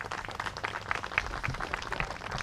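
An audience claps at a ribbon cutting and valve turning event, scattered, moderately quiet applause with uneven individual claps and some murmur beneath it.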